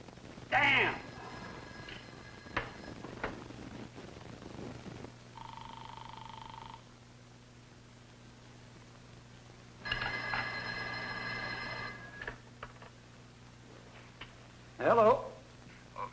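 A telephone rings in bursts of bright electronic trilling, several spaced rings at moderate distance in a quiet room, followed by a voice talking in a 1962 film scene.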